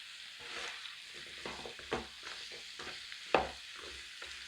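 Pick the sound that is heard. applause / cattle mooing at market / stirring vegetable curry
stirring vegetable curry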